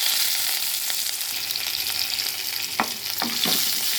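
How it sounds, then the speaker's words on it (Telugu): Curry leaves and fenugreek powder frying in hot oil in a home kitchen, a steady loud sizzle with a few sharper crackles and pops near the end. "అలాగే కరివేపాకు కూడా వేసుకుంటాను."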